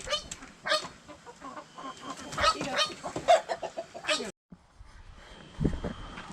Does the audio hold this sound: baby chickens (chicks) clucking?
yes